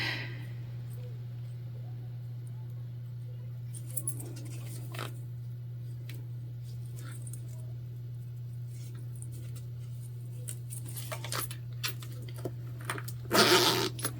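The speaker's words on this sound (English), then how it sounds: "from our other side, we want to put our zipper pull on" Soft, sparse clicks and rustles of a zipper pull being fitted onto a handmade bag, ending in a brief, louder zipping burst, all close and quiet over a steady low electrical hum.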